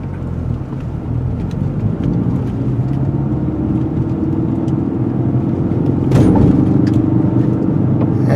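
A 2016/2017 Ford Focus RS, heard from the cabin, rolls along with a steady road rumble and drive noise, then thumps once over a bump near the end.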